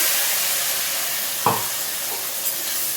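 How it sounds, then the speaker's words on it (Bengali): Ground ginger paste frying in hot oil in a Bengali home kitchen, a steady bright sizzle with a brief stirring scrape partway through, close and continuous with no talking. "দিয়ে এটা ভালো করে তেলের সঙ্গে ভেজে নেব"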